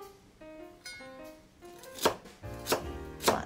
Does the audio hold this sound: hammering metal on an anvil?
no